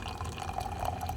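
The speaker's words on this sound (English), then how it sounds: "Let's do the old double pour." Beer pours steadily into a glass, a soft gurgling splash with faint fizzing, brief and close.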